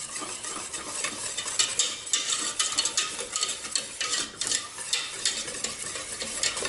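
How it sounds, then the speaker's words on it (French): Pastry cream stirred in a pan on the stove until it thickens, a busy scraping and whisking rhythm with gentle sizzling underneath, close and steady with no voices. "Je mélange bien jusqu'à ce que mon mélange épaississe"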